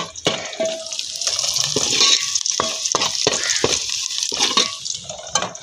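Onions fry in a pan for a Pakistani home-cooked China Doll recipe, waiting to turn brown. A steady wet sizzle runs throughout, broken by repeated scraping and clinking knocks of a spoon stirring, close by and with no talking.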